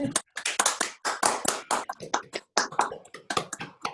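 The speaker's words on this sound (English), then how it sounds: "Would that be okay to have a little applause?" Council members on a video call clap their hands together, a scattered, uneven patter of individual claps from several people, close-miked and fairly quiet, with brief gaps between bursts.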